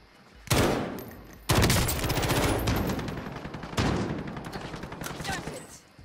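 Gunfire in the Warzone video game: loud, dense bursts of rapid shots with sharp single cracks like a sniper rifle, continuing in waves across the whole stretch with no talking.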